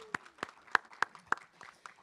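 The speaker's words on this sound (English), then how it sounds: "let's give her a round of applause for that wonderful job she did" Brief burst of audience applause at a mental health conference keynote, about seven sharp claps spaced irregularly in a sparse round, moderately loud in a hall.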